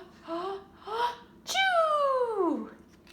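A person's voice imitates a bear sneezing after a pepper fleck, with two short breathy lead-in gasps followed by one loud, drawn-out, falling wail-like sneeze, close and alone.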